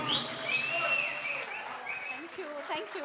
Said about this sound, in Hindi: इतनी ज़ोरदार तालियों के साथ आप हौसला अफजाई कर रहे हैं।